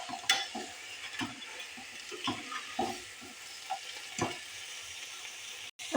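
Crab thoran with curry leaves and garam masala fries in a pan while being stirred, soft sizzling under repeated scraping and clattering strokes of the spoon, fairly close and moderate in level.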